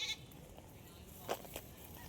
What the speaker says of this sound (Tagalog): Hala, kawawa naman yung isang kambing.